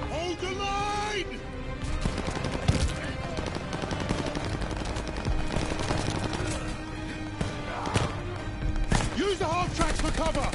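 Dense automatic and rifle gunfire from a World War II firefight in the Call of Duty Vanguard campaign, sustained bursts and single cracks throughout, mixed with shouted orders and battle noise.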